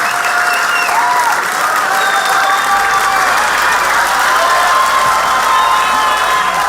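Steady, dense applause from a television studio audience fills the room for the whole stretch, loud and continuous with faint scattered shouts mixed in.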